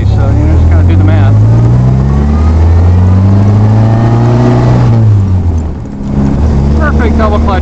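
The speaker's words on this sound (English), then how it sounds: "Perfect double clutch shift in a second." A 1950s 1956 Plus 4 manual car engine revs loudly up and down during a double-clutch shift, with a brief dip in the middle before the engine picks up again.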